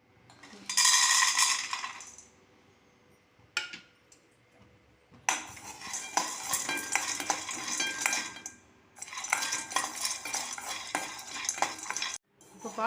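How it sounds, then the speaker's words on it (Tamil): Nuts and lentils stirred and roasting in a dry wok for a ragi laddu, with scraping spoon strokes and rattling, clattering pieces in bursts separated by quiet pauses, near and fairly soft. "இந்த முந்திரி பருப்பு தவிர மீதி எல்லா பருப்பையும் அந்த வாணலியில் போட்டு நல்லா வறுத்து எடுத்துக்கலாம்"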